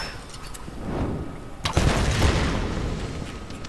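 Gunfire in the Tomb Raider video game, a burst of shots with a heavy boom and rumble around the middle, loud against a steady background of game ambience.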